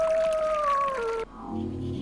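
A long, wavering howl from a creature in the lighthouse horror game I'm On Observation Duty 8 rises clearly and slides slowly downward, then cuts off abruptly into a low droning rumble.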